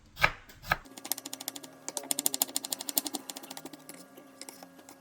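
A knife chops onions on a board in a fast, even run of crisp taps after two slower opening cuts, close and clear with no voices.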